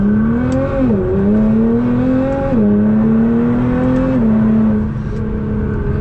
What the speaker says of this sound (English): So then a nice acceleration, not too crazy yet though.